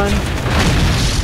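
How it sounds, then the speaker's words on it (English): Gunfire in the video game Jak II, a dense, booming burst that fills the whole moment with low rumble, loud and close, with game sounds layered underneath. "So let's shoot the goddamn gun."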